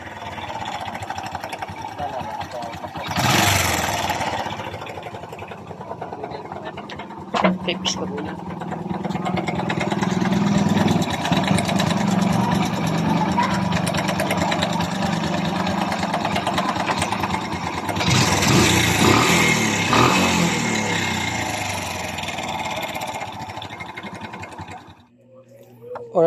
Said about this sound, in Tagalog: parinig ko sa inyo guys ang tunog ng kanyang makina